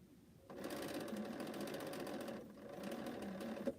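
A sewing machine chain piecing Cleopatra's Fan quilt blocks runs in a steady, continuous mechanical whir, pausing briefly before starting up again, close and fairly loud.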